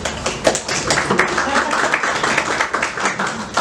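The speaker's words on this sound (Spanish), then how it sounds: "así que un aplauso para ella." An audience at an architecture marketing fanzine launch applauds a guest speaker, with steady, fairly loud clapping from a modest crowd and a few sharper individual claps.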